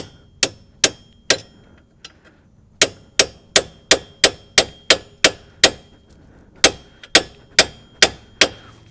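Sharp metallic hammer blows strike a punch on a GM front strut assembly from a Chevy Cobalt, about twenty close, loud clanging hits, a few irregular at first, then a steady even rhythm with brief pauses, no talking.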